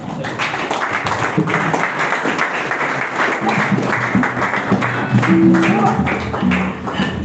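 A conference audience at a young pharmacists' zonal summit claps for a speaker who has just finished. The applause is continuous and fairly loud, with some talking and a brief tonal sound near the end.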